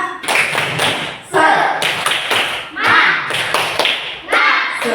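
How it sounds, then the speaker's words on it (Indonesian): Students and teachers at a school assembly clap a rhythmic 'tepuk semangat' cheer in bursts of loud group claps, with voices chanting along between patterns. "Coba tepuk semangat"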